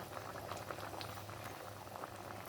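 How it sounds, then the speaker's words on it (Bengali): A pot of chickpea lentil dal boils and thickens on the stove, giving off continuous close bubbling and soft popping with no voices. "সোমবারের পরে দেখেন অনেকটা জাল দিয়ে নিয়েছি, যার কারণে তো ডালটা অনেক অংশে ঘন হয়ে যাচ্ছে, বুটের ডালের মতো।"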